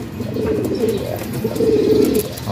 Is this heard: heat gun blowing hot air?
no